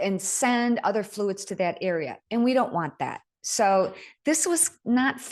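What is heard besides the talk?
None of the usual background noises is heard.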